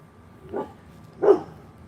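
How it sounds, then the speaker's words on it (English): Two short, muffled dog barks a moment apart, moderately distant, with quiet background between them. "He's just barking, dude."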